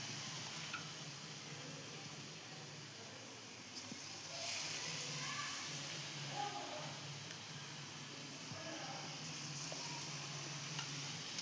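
Bitter gourd bajji, slices dipped in gram flour batter, frying in hot oil with a steady, moderately loud hiss and soft crackle throughout, slightly rising midway; no talking.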